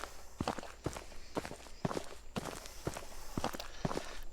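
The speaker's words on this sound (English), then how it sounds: "actually hearing the footstep sounds" Footsteps from a free Unreal Engine 4 asset pack: a steady walking rhythm of about two soft steps per second, close and clear, with no other sound.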